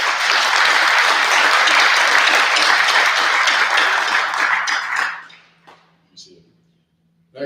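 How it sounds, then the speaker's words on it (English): Audience applause for a graduating recruit at a corrections officers academy ceremony, a dense steady clatter of many hands for about five seconds, then fading to scattered claps and quiet. "Please give him a round of applause"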